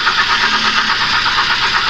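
Rough-running engine of a 2011 Kia Forte, jerking and surging in a wavering idle, heard up close and continuous without any voices.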